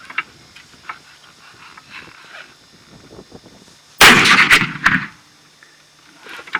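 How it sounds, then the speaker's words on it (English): A single loud, close gunshot from a 458 Winchester Magnum rifle fired without a muzzle brake, a sharp blast with a short rumbling tail, set against quiet outdoor background. "to be able to shoot a 458 and be able to see where the bullet hits"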